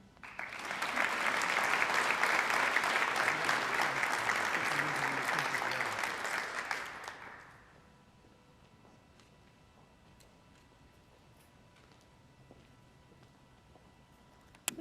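An audience at an alumni Wall of Fame induction ceremony and reception gives a sustained round of applause for five alumni, loud and dense for about seven seconds before tapering off into quiet room tone.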